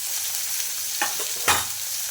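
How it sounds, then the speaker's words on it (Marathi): Tomatoes fry in oil with chili and turmeric, a steady close sizzle with a couple of short stirring scrapes of the spoon against the pan, no voices. "2 ते 3 मिनटं टोमॅटो छान तेलामध्ये परतल्यावर"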